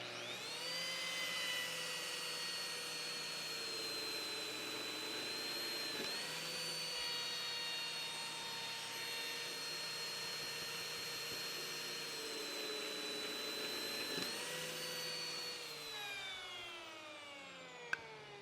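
Lamello Zeta P2 joining machine running up and cutting wood, a steady loud high motor whine sustained throughout with brief dips where the cutter plunges into the workpiece, winding down at the end.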